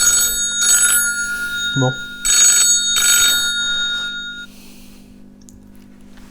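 A phone rings with an incoming call from a private number, sounding three clear electronic ring bursts up close while a voice speaks briefly between them.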